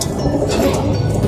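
Racing pigeons coo in a loft, a soft, low, throaty burbling that continues close and steady for a moment with no talk over it.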